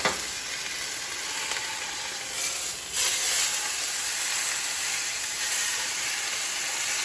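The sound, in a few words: pot roast browning and sizzling in a pan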